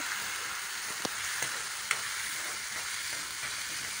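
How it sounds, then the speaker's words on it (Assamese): Masoor lentils dry-frying in a pan give a steady soft sizzling hiss with a few faint clicks of stirring, close and even, no talking. "দালিখিনি ভাজি ল'ব লাগিব"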